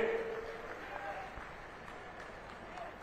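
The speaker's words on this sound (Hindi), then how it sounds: "एक बार दोबारा से ताली बजा के स्वागत करेंगे" Hands clap at a political rally in Haryana to welcome a speaker, a soft, distant spread of applause with some talking underneath that fades gradually.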